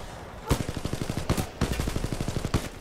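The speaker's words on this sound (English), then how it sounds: "Someone is shooting me from behind" Rapid automatic gunfire in the video game Titanfall 2 rattles out in several bursts, with loud sharp shots and blasts punctuating the steady fire.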